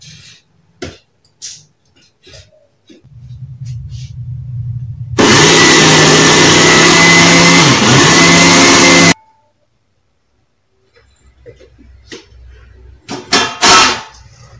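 An electric mixer grinder whirs loudly as it regrinds the arsa mixture for the Uttarakhand sweet. A low motor hum builds first, then a dense roar holds steady for about four seconds before cutting off, with faint kitchen clatter on either side.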